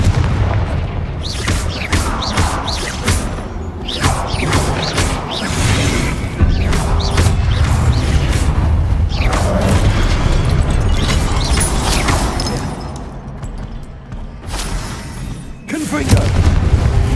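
Confringo explosion spells burst again and again in Hogwarts Legacy, loud booming blasts close up in a dense, continuous barrage of impacts and crashes, with a voice shouting spell names over the noise.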